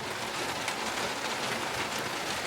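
Steady rain falls on a swimming pool and its surroundings, a dense, even hiss of drops with no talk.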